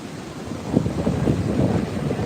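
Gusty wind buffets the microphone on a beach at Las Palmas in Gran Canaria, a steady rumbling roar with waves surging faintly behind it.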